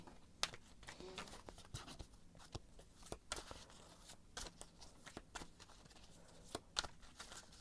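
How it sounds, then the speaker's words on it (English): Tarot cards being shuffled up close: a quiet run of crisp riffles and flicks, irregular taps and slides with brief pauses. "I'm going to shuffle and see what the cards have to say"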